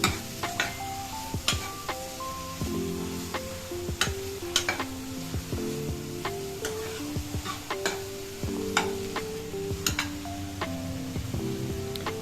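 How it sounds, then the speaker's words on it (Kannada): Onion and tomato fry in a pan for a vegetable kurma, a soft sizzle under frequent sharp ticks and clinks of a spoon stirring against the metal, with tonal background music running throughout. "ಈಗ ಬಾಣಲಿಗೆ ಈರುಳ್ಳಿ ಮತ್ತು ಟೊಮೆಟೊನ ಸೇರಿಸ್ಕೊಳ್ಳೋಣ. ಸ್ವಲ್ಪ ಹೊತ್ತು ಹುರ್ಕೊಳ್ಳೋಣ."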